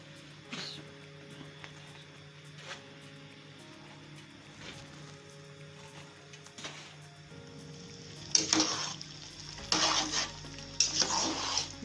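Rice goes into a pan of hot oil and jaggery syrup, setting off a burst of loud crackling sizzle after a quiet stretch of faint hissing and a few soft clinks, heard up close without speech.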